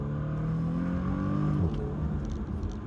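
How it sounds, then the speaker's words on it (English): A Bentley Continental GT with the 6.0-litre W12 engine in sport mode with the 8-speed ZF gearbox gives a deep, steady engine drone from inside the cabin, rising slightly in pitch and then easing under load. "a rather satisfying amount of sound coming from the W12"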